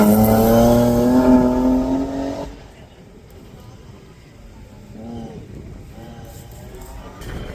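A 3-door Ford Sierra race car at a hillclimb start line revs hard with a rising, loud engine note for two seconds, then drops to a quieter idle with lighter blips and distant engine noise.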